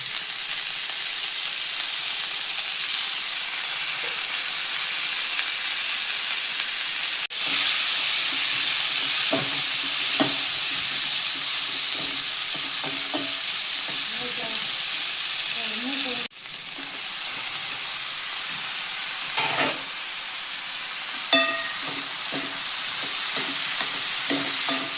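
Vegetables with green chillies and tomato sizzle steadily in hot oil, stirred now and then with squid in the pan; an even frying hiss runs throughout, rising after a burst of fresh oil, with scraping stir strokes near the end.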